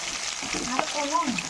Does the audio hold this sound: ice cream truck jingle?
no